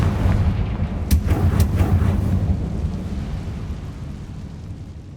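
A Confringo blasting spell detonates in Hogwarts Legacy: a loud, deep explosion with crackling bursts early on, then a long rumbling roar that slowly fades away, close and dominant with no voices.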